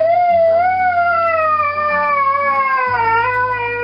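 A husky dog howls in one long, sustained, wavering call that holds steady for nearly four seconds, loud and close with no other sounds.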